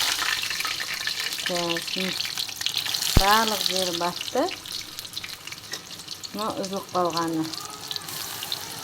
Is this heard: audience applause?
no